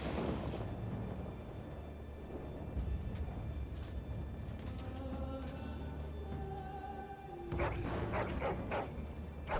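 Puppies in the game Dragon Age: Origins, shivering in the cold, give soft whimpers and yips over a low rumbling game ambience, with a brief cluster of higher cries near the end and no talk.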